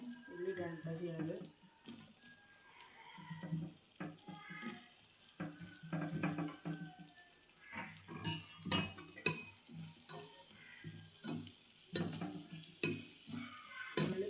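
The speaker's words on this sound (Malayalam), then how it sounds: "ഇനി തക്കാളി നല്ലോണം വാടി വരുന്ന ടൈമിൽ നമുക്ക് ഉള്ളിയിട്ട് മിക്സ് ചെയ്യാം." Onions and tomato sizzle softly in a pan for chicken kadai while a spoon stirs and scrapes in irregular strokes, with quiet talk and kitchen clatter mixed in.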